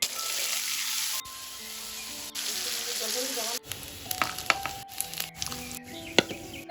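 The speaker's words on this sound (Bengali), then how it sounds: "এখন চিংড়ি মাছের শুটকিটা ভাজে নিব।" Dried shrimp fry in a pan with a steady, close sizzle, broken by clicks and scrapes of stirring and a few sharper knocks against the pan.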